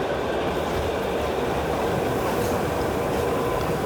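Kalka-Shimla heritage train rolling slowly toward Shimla station, a steady, loud rumble of wheels and carriages with faint rhythmic clatter, continuous and close throughout, no voices.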